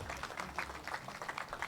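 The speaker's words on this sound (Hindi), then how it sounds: "एक बार जोरदार तालियां सेठिया परिवार के लिए होनी चाहिए।" Applause from an audience for the Setia family at an interview event, faint scattered clapping in soft irregular bursts over low background hum.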